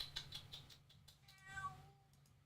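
A house cat gives several faint, short meows in a quiet room, the last drawn out a little longer, heard alone without talk.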